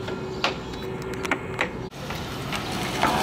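A vacuum pump runs steadily while evacuating a car air conditioning system, a continuous mechanical hum with a few brief clicks and a short dropout midway, close and moderately loud.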